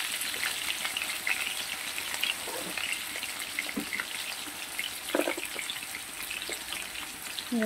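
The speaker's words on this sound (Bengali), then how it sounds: "আলুগুলোকে ভেজে নেব।" Potatoes frying in a pan, a continuous dense sizzle close by with occasional faint stirring knocks, steady in level throughout.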